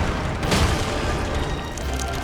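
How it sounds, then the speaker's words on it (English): A dense, loud burst rolls out in Elden Ring with a broad blast swelling about halfway through, then sustained rumbling noise carrying on to the end; no talk. "It's perfect timing for the explosion"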